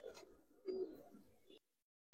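Pigeons in a loft give a few soft, separate coos close by, with short pauses between calls and a brief louder sound at the very end.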